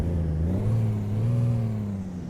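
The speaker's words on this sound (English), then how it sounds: "Start her up." Peterbilt 379 truck engine in American Truck Simulator, a deep steady rumble that builds slightly and holds at a low, even idle-to-rev drone, close and continuous with no talk.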